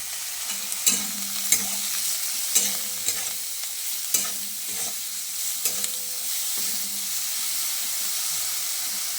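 Vegetables fry with turmeric and salt in a pan, giving a steady sizzle and hiss. Sharp scrapes of stirring break in about every second, with no talking.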